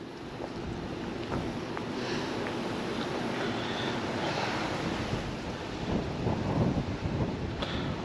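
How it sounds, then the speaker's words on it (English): Strong wind roars outdoors beside a 2019 Highland Ridge Mesa Ridge fifth wheel camper as storms move in, a loud continuous rumbling gust buffeting the microphone with no voices. "That wind is blowing pretty bad."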